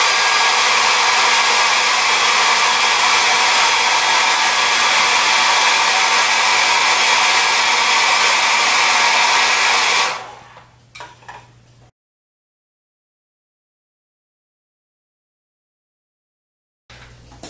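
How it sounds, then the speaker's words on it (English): A hair dryer blows loudly and steadily at close range while drying a painting, then cuts off with a few soft handling knocks before silence. "You can always blow dry this."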